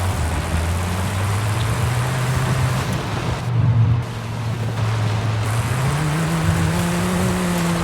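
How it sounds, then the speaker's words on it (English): Car engine in Forza Horizon 5 cruising along a highway, a steady loud drone that dips briefly then climbs in pitch as it accelerates, with no talk over it. "Car sounds super nice."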